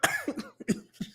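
A single sharp cough up close, followed by a couple of smaller throaty coughs, with short pauses between them and no talking.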